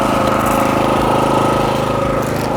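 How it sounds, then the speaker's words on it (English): Small engine of a line-marking paint machine running steadily in a car park, a loud, close, continuous chugging drone with no talk. "I haven't turned the paint machine off the whole time we have it running"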